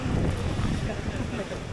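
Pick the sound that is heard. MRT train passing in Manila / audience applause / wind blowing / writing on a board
wind blowing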